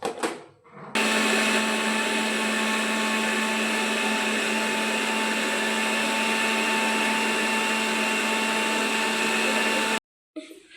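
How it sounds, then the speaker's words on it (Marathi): A mixer grinder blends spinach with a little water for chapati dough, its loud, steady motor whine running continuously for about nine seconds before cutting off abruptly. "आता हे मिक्सरला फिरून घ्यायचं आहे"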